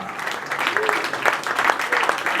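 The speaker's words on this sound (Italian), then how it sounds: "Applauso più forte" Crowd applauding team staff at an Udinese event: a short stretch of dense, steady clapping, moderately loud, with faint voices mixed in.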